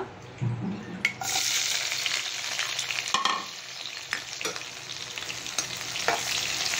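Onions frying in a pan with mustard seeds and cumin give a steady, close hiss of sizzling oil, broken by several sharp crackles and spatters, with no voices.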